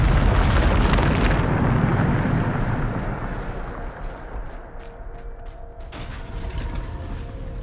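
A Bombarda spell explosion in the game Hogwarts Legacy: a loud, deep rumbling blast that slowly fades into debris rattling and crackling, followed by scattered clicks and creaks.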